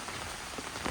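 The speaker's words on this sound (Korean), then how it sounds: "바람 소리는 들어가지 말고 빗소리만 좀 잘 들어갔으면 하는 바람으로" Steady rain patters on leaves and ground along a mountain trail on Hanusan during a heavy-rain warning, a dense, even hiss of drops close around with no voices.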